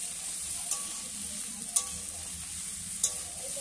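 Bottle gourd greens with eggplant and potato fry in a pan for a Bengali village-style chorchori, sizzling steadily while a spatula stirs and clinks against the pan about three times.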